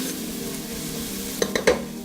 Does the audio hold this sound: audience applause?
no